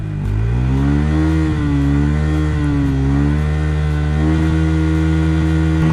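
A Bajaj Pulsar N150 motorcycle engine is held near 9000 RPM, a loud, close, buzzing drone that wavers slightly as the revs bounce against the limit.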